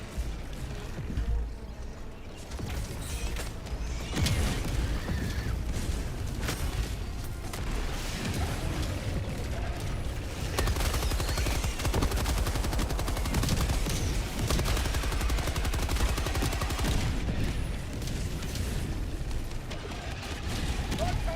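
Orbital barrage strike in the Helldivers 2 video game: a sustained, loud stream of booming explosions and gunfire-like blasts rolling on continuously throughout, with game voice callouts mixed in.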